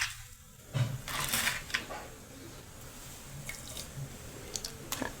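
Chana dal tipped into 1.5 litres of hot water in a pressure cooker, giving a close splash and a patter of drips over a low simmering hiss, with a few small later splashes.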